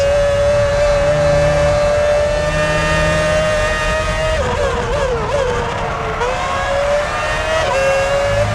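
An F1 car's engine from the F1 2006 video game, a loud, continuous high-pitched whine that dips and rises as the car leaves the pits, dominating throughout.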